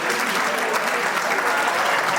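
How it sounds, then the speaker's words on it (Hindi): Students clap together at a college fresher party, a thick, even wash of applause filling the room at steady loudness throughout. "ताली बजाओ सभी"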